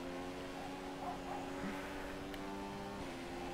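Formula 1 car engine in the F1 2015 racing game, a faint, steady high-pitched whine holding a constant tone for several seconds before easing slightly.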